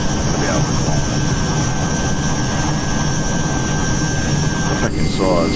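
A Hawker Hunter jet engine at full throttle in the MSFS 2020 flight simulator gives a steady, loud roar with a high whine running through it, barely varying across the whole stretch.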